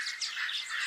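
Birds calling in the Okavango Delta in Africa, a dense chorus of high chirps and whistles blending into a steady bright wash, fairly loud with no voices.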